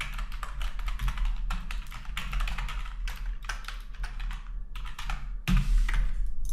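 Rapid, irregular keystrokes on a computer keyboard while a dashboard design is built in Adobe XD, crisp close clicks in uneven bursts with a louder cluster of taps near the end and no talking.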